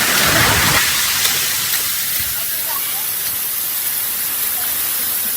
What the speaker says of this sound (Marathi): डायरेक्ट धबधब्या जवळच जातो आता मी.